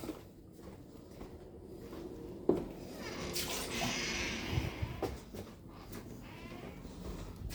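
Takdaneh fruit juice glugs and splashes out of a carton into a container, a rushing liquid pour peaking midway, with a few sharp knocks and clatters around it.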